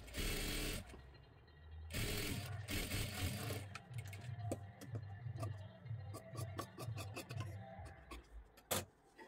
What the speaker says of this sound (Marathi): सर्वात आधी ही बाजू अशा पद्धतीने पकडून पूर्ण शिलाई करून घ्यायची आहे